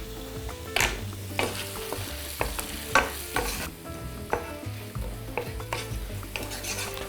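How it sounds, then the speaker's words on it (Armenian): Onions with a pinch of baking soda sizzle steadily in a hot pan while a utensil stirs and scrapes, with occasional louder clacks against the pan. "Սոխը թող տապակվի, փափկի"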